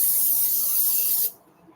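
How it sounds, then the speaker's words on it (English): Non-stick cooking spray hisses from a can into a casserole dish in one steady, close burst of just over a second, then cuts off abruptly. "you got to spray it. Okay, with whatever non-stick spray you have."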